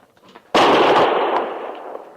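Single loud Springfield rifle gunshot in a radio western drama, a sharp close crack after brief quiet, followed by a long booming decay that fades slowly.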